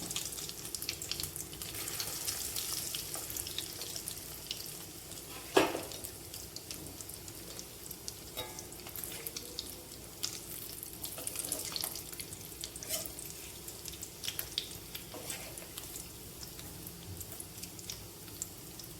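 Egg frying in a hot pan: a steady, soft sizzle and hiss continues throughout, with one sharper clatter partway through and occasional faint clicks, and no talk.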